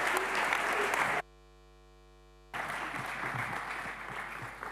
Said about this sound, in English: Give him a warm applause and a lot of love.